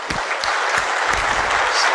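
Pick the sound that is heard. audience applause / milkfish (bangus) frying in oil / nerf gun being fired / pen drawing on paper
audience applause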